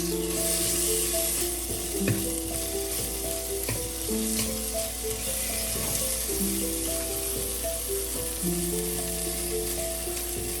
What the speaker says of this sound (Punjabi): ਹੁਣ ਅਸੀਂ ਇਹਦੇ ਵਿੱਚ ਅਦਰਕ ਪਾਵਾਂਗੇ ਮਿੰਟ ਕਿ ਨੂੰ ਭੁੰਨਾਂਗੇ ਜੀ